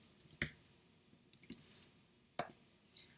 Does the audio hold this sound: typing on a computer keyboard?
yes